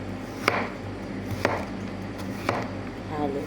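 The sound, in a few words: chopping upo vegetable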